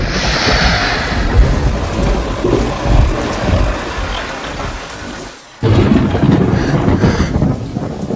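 Heavy rain pours steadily while deep thunder rumbles roll through, loud and close, with a brief drop in the downpour before it surges back; no voices are heard.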